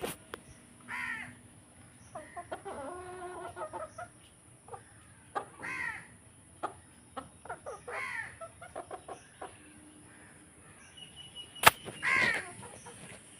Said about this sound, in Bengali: চলো আমরা কটা মুরগি পুষেছি, মুরগিগুলো দেখাই। মুরগি ছাদেই আছে, এই দেখো।